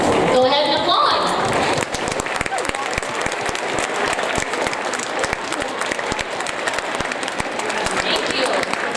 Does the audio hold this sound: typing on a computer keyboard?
no